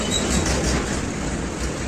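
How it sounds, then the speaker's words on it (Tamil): Continuous rumble and rattle of trains at a nearby railway station, heard as a steady dense noise close by with no speech. "பக்கத்தில் ரயில்வே ஸ்டேஷனால சவுண்டு வந்துக்கிட்டே இருக்கும்."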